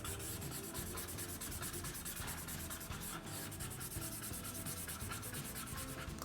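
A pen colors in on paper with quick, steady back-and-forth scratching strokes, close and continuous throughout, with no voice.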